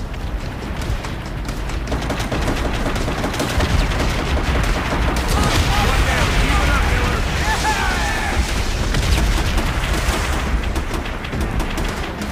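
Heavy gunfire and explosions from a battle in Call of Duty: World at War, loud continuous bursts and booms mixed with in-game shouting voices.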